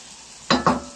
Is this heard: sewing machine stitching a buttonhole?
no